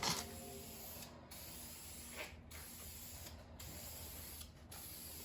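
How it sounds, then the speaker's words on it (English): Tinted clear coat sprayed from a can onto a silver-painted Miata valve cover, a steady close hiss broken by four short pauses, quiet overall with no talking. "So we first spray down some silver paint, and then this goes on top of that and it makes it look like anodized metal."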